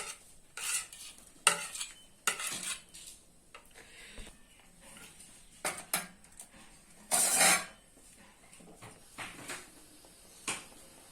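Small fish fry in mustard oil in a pan, with a quiet sizzle under irregular bursts of stirring and utensil scrapes and clinks, close and fairly soft.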